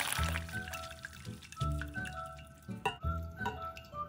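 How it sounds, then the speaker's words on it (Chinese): Soaking water drains off softened rice vermicelli in a home kitchen, with a steady trickle, drips and a few splashes and clinks over about four seconds, close and moderately loud, with no talking. "1分钟后将水沥干"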